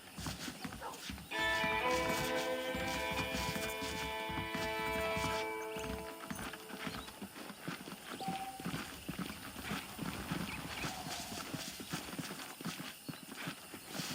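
Horse hooves clip-clop in a steady walking rhythm in the video game Red Dead Redemption, alongside a brief musical flourish at the start, fading into a quieter ambient bed.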